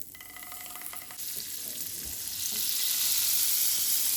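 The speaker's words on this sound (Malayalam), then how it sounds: "പാന് ചൂടാകുമ്പോൾ അതിലോട്ട് ഒരു സ്പൂൺ ബട്ടർ ചേർത്ത് കൊടുക്കാം." A spoonful of butter hits a hot pan for oats vegetable dosa and sizzles, the frying hiss building and growing louder and brighter after a couple of seconds, then holding steady.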